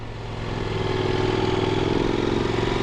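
A twin-engine motorcycle riding in slightly the wrong gear, with a steady, loud, throbbing engine drone that builds slightly and holds at a labouring pitch, heard up close with no talk.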